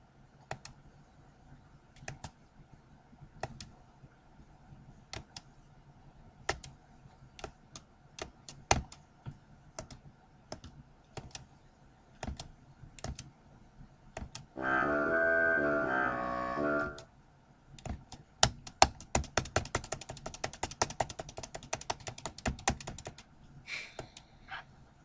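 Computer keyboard typing: sparse, irregular key clicks at moderate distance, then a short steady burst of noise, followed by faster, denser typing toward the end.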